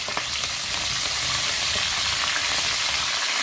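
Curry leaves and dried red chilies sizzle in hot oil in a pan, a steady, dense crackle with small pops running throughout at close range, with no voices.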